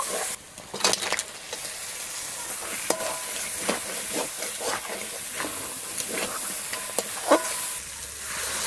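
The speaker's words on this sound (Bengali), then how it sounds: "এবার কাঁকড়াটা দিয়ে একটু কষিয়ে তারপরে নারকেল দুধটা দিয়ে দেব" Crab stir-frying in masala in a pan gives a steady hiss of sizzle, broken by repeated scraping and stirring clicks of a spoon, close and fairly loud with no talking.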